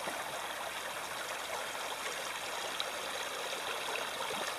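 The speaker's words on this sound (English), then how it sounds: "There's a creek, not much left of it." A small, low creek trickles and babbles steadily, a soft, continuous wash of flowing water with no other sounds.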